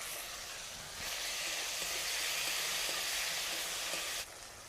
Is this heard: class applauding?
no